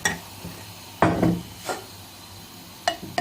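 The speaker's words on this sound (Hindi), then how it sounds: "ये चम्मच से निकाल के मैं सारे डालती हूँ इसमें।" A spoon scoops thick tamarind and plum chutney into a pot, giving a few sharp metallic clinks and scrapes separated by quiet pauses, close by.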